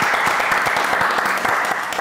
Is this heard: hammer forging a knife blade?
no